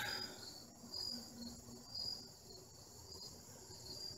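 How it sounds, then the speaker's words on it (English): Crickets chirp steadily in a quiet night setting, a faint high-pitched trill repeating continuously with a few brief louder pulses, no voices present. "These damn bugs."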